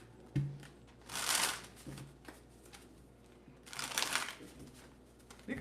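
Cards are shuffled for a card reading in two distinct riffling bursts, close and crisp, separated by quiet handling and small taps.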